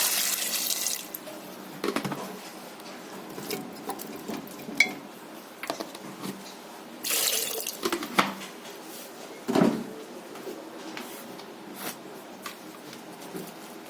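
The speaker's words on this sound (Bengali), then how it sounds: "আমি জল দিয়ে দিচ্ছি" Water poured into a pressure cooker while making a small-potato and pea aloo dum, with splashing bursts and clatter of the cooker and utensils, loud at the start and again midway, with softer kitchen handling between.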